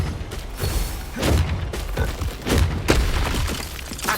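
A Bombarda spell explosion in the Hogwarts Legacy video game comes through as a series of loud blasts and crashing impacts amid dense, mechanical-sounding combat noise.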